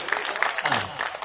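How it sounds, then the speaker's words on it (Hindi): Hearty applause from a gathered crowd, dense rapid clapping that stays fairly loud throughout the short burst, with a voice speaking over it. "ये देखिए जोरदार तालियां।"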